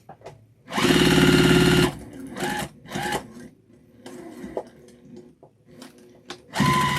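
Sewing machine stitching an infinity scarf with a phone pocket: a loud, close burst of rapid stitching followed by shorter start-stop runs and a final burst, with a little talk in between.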